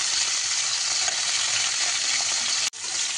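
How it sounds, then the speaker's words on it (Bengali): Pieces of pointed gourd (potol) frying in a pan over a high gas flame give a loud, even, close sizzle that breaks off briefly near the end before resuming. "এই অবস্থায় আমি গ্যাসের আঁচটা বাড়াচ্ছি এবং পটলগুলোকে যতক্ষণ না লাল হয় লাল লাল করে ভেজে নেবো।"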